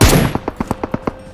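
Gunfire in a battle royale video game: a loud opening blast followed by a rapid, evenly spaced burst of about seven shots that fade slightly, heard close with no talk over them.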